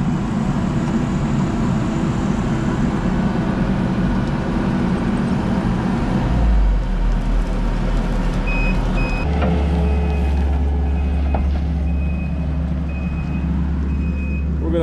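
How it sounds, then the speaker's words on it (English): A skid steer works a foundation hole for a modular home, compacting fill. Its heavy diesel drone runs loud and steady, deepening partway through, while intermittent high reversing beeps sound over it. "running the skid steer, helping the compaction"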